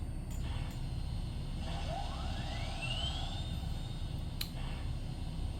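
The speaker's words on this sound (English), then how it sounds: "that is actually the fan for the fan-driven smoke unit" A faint, rising whine from the fan of the fan-driven smoke unit on an MTH AC-6 cab forward model locomotive climbs and levels off over a steady low background rumble, with a couple of small clicks.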